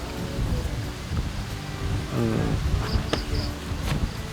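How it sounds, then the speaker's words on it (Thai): Rain falls at a tent campsite in Phu Toei National Park in cool weather, a steady broadband hiss throughout with a few faint high chirps and a brief murmur in the middle. "ฝนเริ่มลงแล้วเนี่ย มีฝนนะ"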